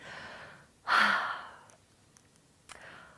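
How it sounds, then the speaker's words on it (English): A single deep inhalation swells up after a short quiet moment, loud and close, then trails off into faint room noise with a small click near the end. "Take a big deep breath in."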